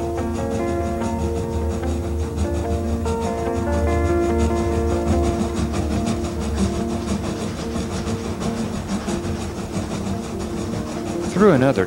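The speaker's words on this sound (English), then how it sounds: "the sounds of the puffing engine" Continuous rumbling steam train noise, puffing engine on rails, rolling and rhythmic, with a steady mechanical drone throughout and a brief squeal at the very end.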